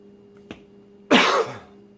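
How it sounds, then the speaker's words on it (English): One short, harsh cough rasps out close by, preceded by a faint click, against quiet background hum. "I'm only coughing because I've had all that stuff"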